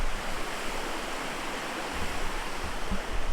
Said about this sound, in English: this little waterfall that I literally videoed